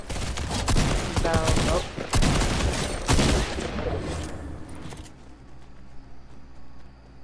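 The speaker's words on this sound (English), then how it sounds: "Who's shooting? Who's shooting?" Rapid gunfire rattles through a video game shooter in loud, overlapping bursts for about five seconds, then cuts off to a quiet background hum while a player says a couple of short words.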